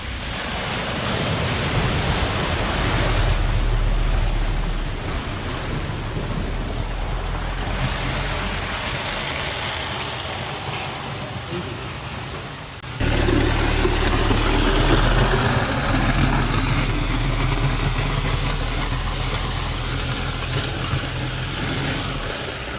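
A car ploughs through the water at Rufford Ford, scraping its underside, heard as a loud, sustained rush of churning water over a low engine rumble, with a sudden jump in the splashing about halfway through.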